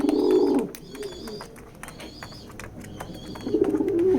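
Racing pigeons coo at a loft, with soft throaty coos at the start and end and quieter chirps and rustling between, close by.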